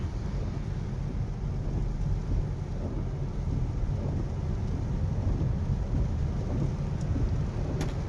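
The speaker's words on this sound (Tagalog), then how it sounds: "Kusog ang ulan guys." Heavy rain pours down steadily and loudly, a dense continuous roar with low rumbling underneath and no voices.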